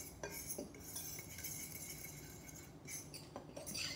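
Spices get mixed into flour for homemade chicken and dumplings, heard as a faint, close utensil scraping and light clinking against a bowl. The clinks come in a loose, uneven rhythm.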